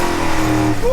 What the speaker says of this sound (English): Oh, back end spinning.